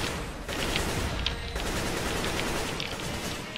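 Rapid bursts of gunfire from the video game CS:GO, a dense fusillade of shots that fires continuously, loud and close, with no talking.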